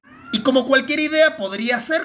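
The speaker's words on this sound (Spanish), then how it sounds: "Si escuchan un gato maullando, es mi gata que entró en celos." A female cat in heat meows loudly and drawn out, in wavering cries that overlap a person speaking Spanish nearby.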